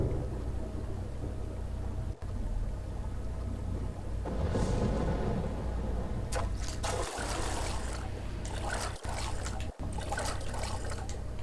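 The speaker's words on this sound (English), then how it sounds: "There's a thunderstorm!" Steady rain hisses through a thunderstorm in the video game Persona 4 Golden, with a low rolling rumble of thunder swelling near the middle. It is heard faintly, with no voices.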